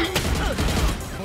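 Gunfire in Valorant, a rapid burst of shots over a dense, noisy game mix with an onset near the start, heard up close.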